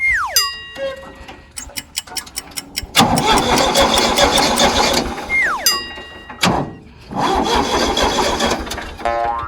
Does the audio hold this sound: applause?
no